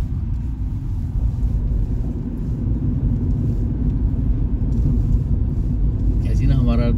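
Car being driven out near Morni Hills, a steady close engine rumble and road noise running throughout beneath a voice speaking Hindi.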